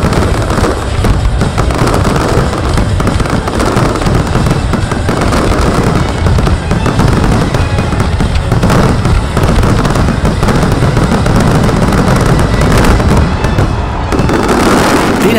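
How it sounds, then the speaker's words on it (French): Fireworks display at the Masters de Feu pyrotechnics competition in Compiègne, a loud, continuous barrage of bursts, booms and crackles layered densely together for the whole stretch, with no pauses between shots. "immense toile que les artistes pyrotechniques ont colorée de mille feux"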